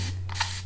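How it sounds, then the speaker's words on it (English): A spray bottle mists water onto long natural hair, two quick soft hisses in close succession, quiet and close with no talk. "So I'm just gonna spray this entire section with my water."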